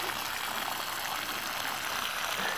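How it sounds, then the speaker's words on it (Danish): Water runs out of a garden water pipe at an allotment garden in November, a steady faint hiss and trickle throughout, with no talking. "Nu burde der jo ikke komme særlig meget vand ud,"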